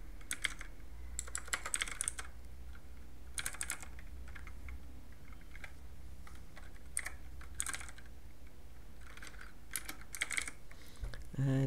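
Fingers typing on a computer keyboard in irregular bursts of quick clicky keystrokes, with pauses between, close and fairly clear over a low steady background hum, no talk.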